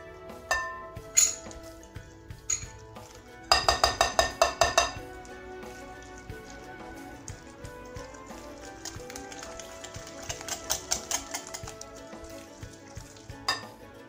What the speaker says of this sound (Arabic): غادي نحرك هاد المكونات مزيان.